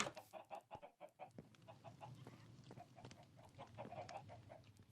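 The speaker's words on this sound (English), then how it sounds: "Got a clutch of chickens." Chickens clucking in the video game Minecraft, a run of rhythmic, fairly close clucks and short calls repeating steadily over a low background hum.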